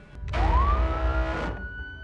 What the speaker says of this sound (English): I parked the bus right near the college, hit the siren, and made a run for it.